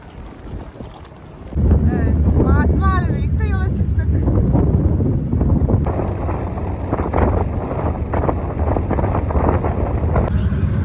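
Strong wind roars steadily across the microphone aboard a ferry to Gökçeada, with engine rumble underneath and brief bird calls early on.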